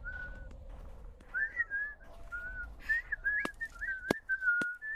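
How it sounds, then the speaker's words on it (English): Several people whistling at different distances, with tonal notes rising and falling over a quiet background and a few sharp clicks or snaps. "everyone's whistling back"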